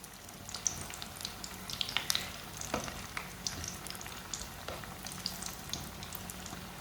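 Besan bhalle frying in hot oil over a medium flame, giving a steady low crackling sizzle with scattered pops throughout, close by and fairly faint, with no talk.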